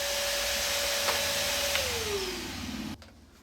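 A shop vac runs with a loud, steady motor whine, then winds down in pitch and cuts off near the end. No one speaks.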